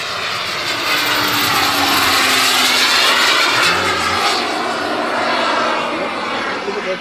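A Boomerang Elan model airplane flies with a smoke system, its engine giving a loud, steady buzzing drone overhead that holds evenly throughout.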